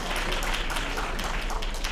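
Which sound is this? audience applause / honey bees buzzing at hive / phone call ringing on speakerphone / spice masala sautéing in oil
audience applause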